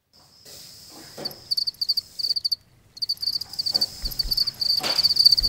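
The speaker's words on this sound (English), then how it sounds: "You might have noticed some slight chirping in the background of my last video." Feeder crickets chirp in steady high-pitched trills indoors, pausing briefly then resuming, with faint rustling and a few soft knocks underneath.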